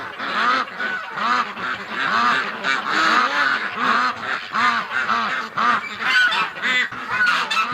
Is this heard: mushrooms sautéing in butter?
no